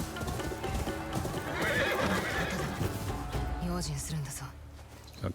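A video-game horse whinnies loudly and hooves clip-clop along as a voice talks over it, the neigh rising in the middle before the sounds fade out.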